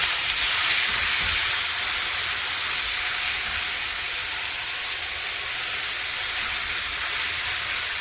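Oil heating in a pan for a Bengali egg dish, a steady bright sizzling hiss holding at an even level throughout, close up with no talk over it.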